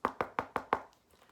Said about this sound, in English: Frog knocked at Toad's door.